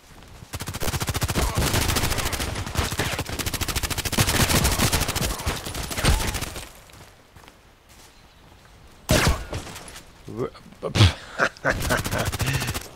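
Gunfire rattles in the online shooter Contract Wars: about six seconds of dense, rapid automatic shots up close, then a quieter lull broken by scattered single shots and short bursts.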